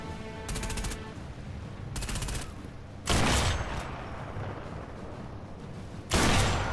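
Rapid automatic gunfire in the video game Sniper Elite V2 Remastered, several loud bursts of close shots separated by short gaps of quieter game ambience, the later bursts heavier and booming.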